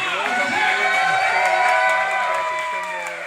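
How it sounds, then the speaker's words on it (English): A crowd at a political debate watch party claps and cheers, with whoops and voices mixed into the steady applause. "Give all a round of applause."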